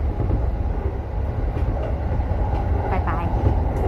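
Inside the front car of a Harumi train on the move, a steady low rumble and rolling noise run throughout, with a few faint higher tones near the end.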